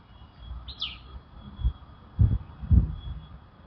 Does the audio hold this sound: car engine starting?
no